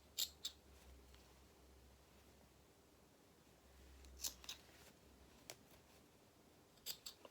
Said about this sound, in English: Just snip it off as best as I can.